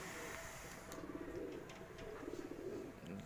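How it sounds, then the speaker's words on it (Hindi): Fancy pigeons coo in a steady, soft rumbling chorus close by while others fly, with wind and faint outdoor background around them. "ये देखो जी ये कबूतर उड़ रहे हैं।"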